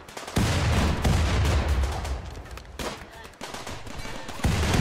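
Turrets firing in a space-combat video game, loud rapid gunfire bursts that roll on almost continuously, swelling and dipping with brief lulls between volleys.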